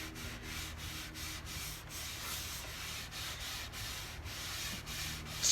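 A cloth or pad rubs finish into the wood of a farmhouse coffee table, making a soft, steady rhythmic scrubbing with regular back-and-forth strokes, close and quiet with no talking.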